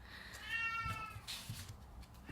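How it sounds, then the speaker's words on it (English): A house cat yowls loudly indoors, one drawn-out meow rising and falling over about a second, with faint rustling afterward and no talk. "And right on cue, my cat is yelling."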